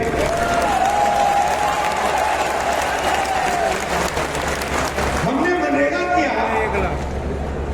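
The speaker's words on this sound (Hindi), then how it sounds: "ताली बजा रहे हो, मीडिया नहीं दिखाई।" A large political rally crowd claps steadily for several seconds, dense and continuous, with a speaker's voice and crowd murmur mixed in toward the end.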